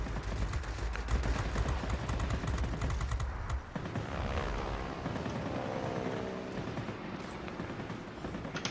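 Guns of a Seahawk warplane firing during a World of Warplanes multi-role match: a long, dense, continuous rattle of rapid shots over engine roar, loud and sustained, easing slightly toward the end, with no talk.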